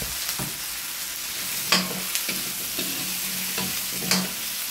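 Squash sizzles in a hot pan while a utensil scrapes and stirs in several quick, scratchy strokes, close up.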